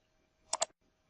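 A computer mouse clicks the Run button on a Windows security warning: a quick, crisp double click, close and isolated against near silence.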